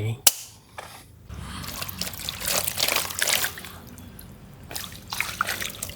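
Water runs and splashes over a TPE car floor mat for a BYD Dolphin during washing, giving intermittent trickling and spraying bursts at close range after a sharp knock, with someone talking over parts of it.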